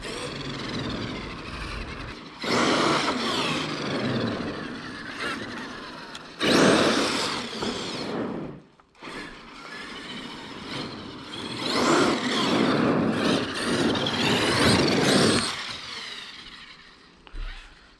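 A Traxxas X-Maxx 8S RC truck running and doing wheelies: loud electric motor whine and drivetrain roar rising and falling in several surges with short dips between, close by and without speech.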